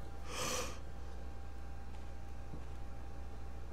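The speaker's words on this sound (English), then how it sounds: "Oh, the biggest yawn in history." A single loud, breathy human yawn, over within about half a second, near the start against a low steady background hum.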